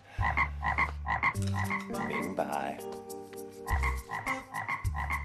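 A frog croaks loudly and close by in a rapid series of throaty, rhythmic calls that repeat in bursts, with a brief voice partway through.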